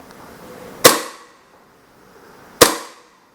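A VZ61 Scorpion fires two single shots about two seconds apart, each a sharp, loud crack followed by a short ringing decay, with near silence between them.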